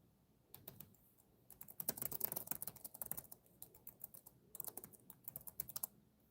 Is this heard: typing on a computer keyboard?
yes